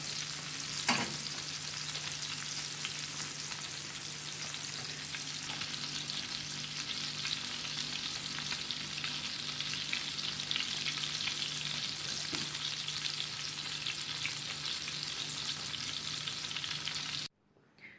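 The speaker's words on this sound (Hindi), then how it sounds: "मैं इसे तवे पे इसलिए बना रही हूँ कि ये थोड़ा आहिस्ता आहिस्ता जब ये कुक होगा" Peshawari chapli kebabs fry on a tawa griddle with a steady, close, even sizzle that continues for most of the clip before cutting off abruptly near the end.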